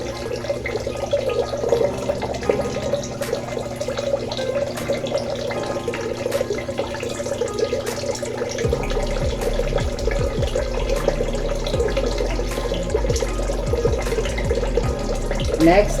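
A sink tap runs steadily during medical handwashing, a continuous splashing water stream that stays fairly loud throughout, with a lower rumble joining partway.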